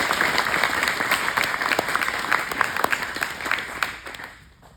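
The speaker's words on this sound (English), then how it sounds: "I wanted to say the round of applause for this" A gym crowd at a belt ceremony at SBG Athens claps loudly and steadily, a close, dense burst of applause with scattered whoops that fades out near the end.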